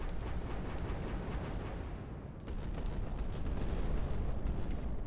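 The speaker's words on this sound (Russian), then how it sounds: "А давай прыгнем и ракетой ввалим." Rocket fire in the space strategy video game Final Theory, a dense, continuous roaring rumble that dips briefly midway before surging back, loud and close with no talk.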